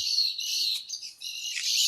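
Birds chirp around a rose apple tree heavy with fruit, giving continuous high, thin twittering at a moderate distance with no voices.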